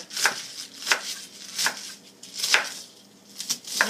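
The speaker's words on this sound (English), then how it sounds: "cut up the parts that we need" A knife chopping cabbage on a cutting board, five or six steady, evenly spaced thuds, close and clear with no talking.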